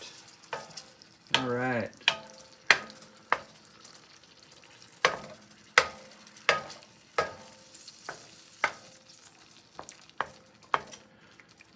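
Eggs fry in a pan with bitter melon in a scramble, giving a low, steady sizzle broken by sharp, repeated clacks of a utensil stirring and scraping the pan. A brief voice speaks once near the start.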